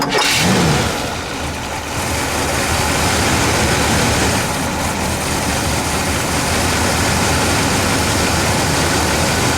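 A custom factory-built 1969 Cadillac station wagon with a single exhaust fires up with a short crank and then settles into a steady, loud V8 idle that rumbles on for several seconds with no talk over it.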